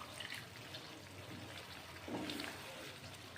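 Water is poured into a pan for cooking chicken, a faint, soft trickling pour at a little distance, partly under low voices and kitchen background noise.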